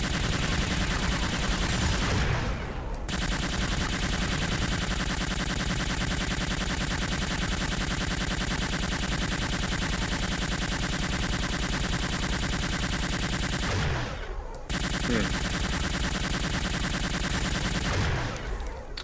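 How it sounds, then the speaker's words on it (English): A base turret in Unreal II XMP fires in a loud, sustained rapid stream of shots, briefly cutting out around the three- and fourteen-second marks before resuming, with no talk over it. "This is a pretty intense turret."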